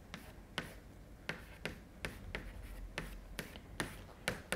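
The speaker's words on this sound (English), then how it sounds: "So I'm going to write it like this." Chalk strokes on a board during a mathematics lecture, a run of sharp, evenly spaced taps and scrapes at close range with no talking.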